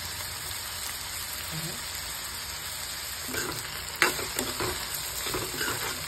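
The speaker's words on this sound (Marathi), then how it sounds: "गॅस मंद आचेवर थोडासा टोमॅटो आपण शिजवून घेऊ।" Tomato cooks over a low gas flame with a soft, even sizzle in the pan, joined near the end by a few brief utensil knocks and stirring sounds, with no voices.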